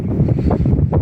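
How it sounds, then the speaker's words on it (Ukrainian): Low, buffeting rumble of wind striking a microphone outdoors in a ploughed field, steady and loud throughout with gusty swells. "я вибачаюся за вітер"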